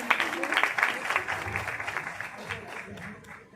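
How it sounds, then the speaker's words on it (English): Audience applause at a demo meeting, steady clapping from a room crowd with a sharper burst near the start and some voices mixed in, tapering slightly toward the end. "Huge round of applause, please, please."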